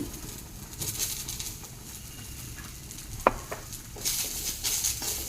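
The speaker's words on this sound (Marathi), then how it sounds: "कांदा भाजून घेऊया आणि लसूण" Onion and garlic roast in a pan with a steady sizzle under scraping stirs and one sharp utensil clink, close up and without talk.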